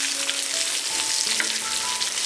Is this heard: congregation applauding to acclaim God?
no